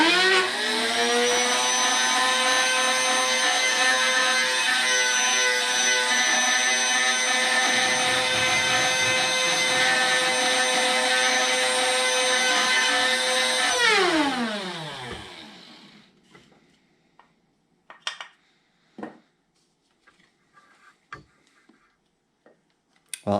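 A kitchen appliance grinds dried tomatoes into a fine powder, a loud steady whir running for about fourteen seconds before winding down, followed by scattered light taps and clicks.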